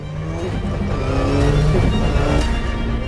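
A 2022 Subaru BRZ on Michelin Pilot Sport 4 tires driving hard, a loud, steady engine drone with rising revs and road roar throughout the brief stretch, close and continuous.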